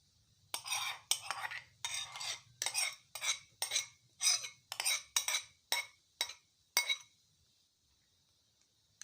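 A spoon stirs yogurt into chana chaat in a bowl, giving about a dozen rhythmic scraping clinks against the bowl, close and fairly quiet, with no talking.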